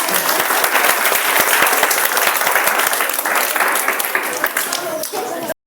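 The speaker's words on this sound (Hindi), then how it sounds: "इसलिए एक बार जोरदार ताली मारिएगा सारे बच्चों के लिए।" Parents and guests at a Jharkhand residential school's result celebration for class 8 and 9 students applaud loudly, dense close clapping that fades slightly before stopping abruptly.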